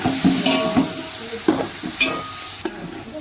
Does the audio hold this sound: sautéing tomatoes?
yes